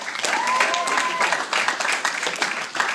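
An audience at a men's reading group competition applauds to vote for a reader, with dense clapping and some crowd murmur or a voice mixed in throughout.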